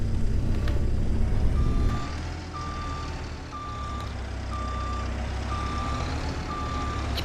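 A truck in Farming Simulator 25 backs up, its reversing alarm beeping at a steady, even pace over a low engine rumble that drops in level partway through.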